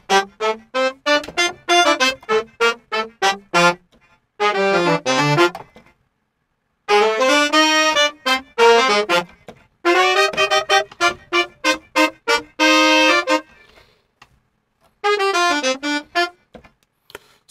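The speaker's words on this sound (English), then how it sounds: "It looks like it just says trumpet, but it's actually like a multi with trumpet, trombone, and alto sax" Vir2 Mojo horn section sample blending trumpet, trombone and alto sax, playing punchy staccato stabs and short brassy phrases with brief gaps, loud and close, with no voices.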